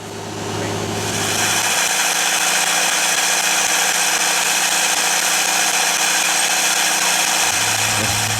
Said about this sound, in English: Give it some gasoline. Beautiful. Rev it up a little bit.